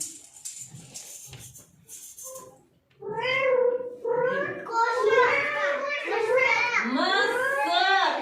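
A cat meows repeatedly, several drawn-out, rising-and-falling cries close by, after a few soft child-like voices and clatter at the start.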